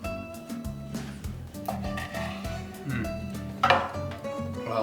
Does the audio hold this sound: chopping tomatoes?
yes